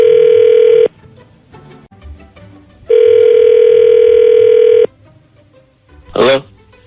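A phone line rings back as a morning radio show calls a listener: two long, steady electronic ring tones separated by a pause, loud and close, followed by a brief voice.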